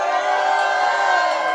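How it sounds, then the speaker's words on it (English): An audience at a live open-mic music night cheers and whoops together in a loud, sustained roar of many voices filling the room. "All right, that sounds like a pretty good crowd."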